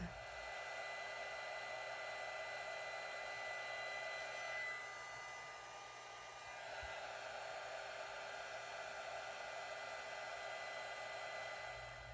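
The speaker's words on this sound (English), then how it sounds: "So now I'm going to use my heat tool to heat set these." A handheld craft heat tool blows steadily while heat-setting embossing on mixed media tags, a loud continuous fan roar with a brief dip midway, no talking.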